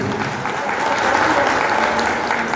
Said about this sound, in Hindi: इनके नाम पे जोरदार ताली होनी चाहिए